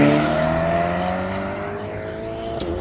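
A Ferrari California sports car accelerates at a supercar meeting. The engine note climbs steadily and loudly, then fades slightly as it pulls away, with no one speaking.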